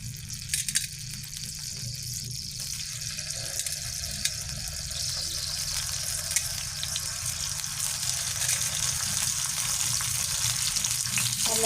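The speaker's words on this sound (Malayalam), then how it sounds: "എണ്ണ ചൂടായിട്ടുണ്ട് അപ്പം ഇതിലേക്ക് നമുക്ക് തക്കാളി ഇട്ട് കൊടുക്കാം" Native tomatoes frying in hot oil in a home kitchen while cooking mackerel curry, a steady close sizzle that keeps up without a break and with no talk over it.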